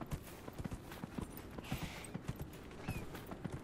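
Horse hooves gallop in Dragon Age: Inquisition, a steady rapid clip-clop rhythm running through the whole stretch with a faint creak over it, loud and close.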